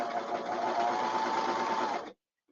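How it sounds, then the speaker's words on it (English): An embroidery machine stitching steadily for about two seconds, a fast even whirring rattle close up, then stopping abruptly into silence. "And I'm going to start stitching."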